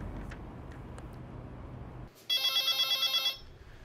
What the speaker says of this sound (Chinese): 电话铃